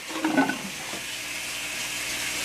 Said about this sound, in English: water is gonna start flowing